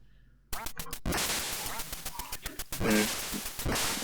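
Ducks quack repeatedly in the video game Duck Hunt, loud and close over dense game sounds with rapid clicks and shots, with a brief burst of harmonic quacking midway.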